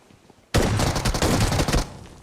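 A burst of gunfire from a shotgun in the mobile game PUBG Mobile erupts suddenly, loud and close, and lasts a little over a second before cutting back to quiet.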